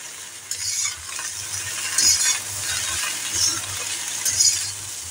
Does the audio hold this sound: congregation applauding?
no